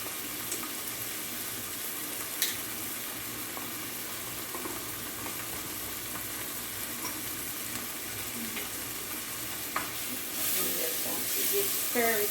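Chickpea curry sizzles and crackles steadily in a pan as it is tossed and stirred, a soft, even frying hiss that swells slightly near the end.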